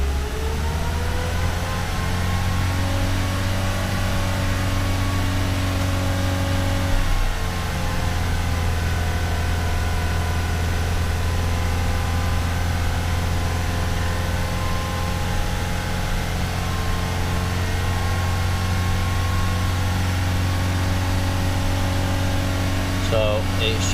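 Vauxhall Corsa D engine idling on LPG during gas calibration, a steady, even low hum with a constant tone that holds for the whole stretch.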